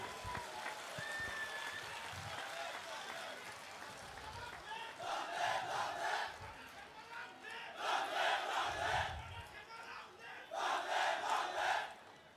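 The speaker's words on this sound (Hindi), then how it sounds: "हमारे सीएम साहब के स्वागत में तालियों की गड़गड़ाहट होनी चाहिए" Rally crowd at a Tipra Motha mass gathering in Khumulwng welcoming the chief minister, with loud swells of cheering and clapping arriving in three surges over a steady background murmur of voices.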